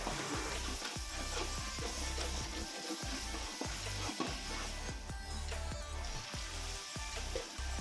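Steady sizzling from a pot as mutton cooks with yogurt, broken by regular scrapes and knocks of a spoon stirring.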